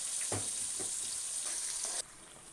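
Turmeric and ginger paste frying in a crab curry pan, giving a steady close sizzle with a few soft stirring knocks; the sizzle cuts down abruptly near the end.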